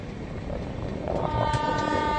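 A train at a railway station rumbles steadily, with a horn-like toot rising near the end, loud and close with no talk.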